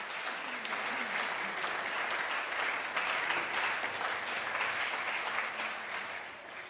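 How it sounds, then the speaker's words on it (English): Sustained applause from a church congregation honoring the players of a stone soup performance at a Sunday service, a dense steady clatter of many hands lasting several seconds with no break. "let's give a big round of applause for all of our stone soup players."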